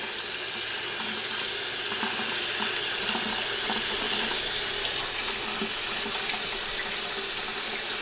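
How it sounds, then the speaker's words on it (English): Cold water runs steadily from a kitchen tap into a sink while chicken is rinsed for chicken parmesan, a loud, continuous splashing hiss with no talk over it. "Turn some cold water on,"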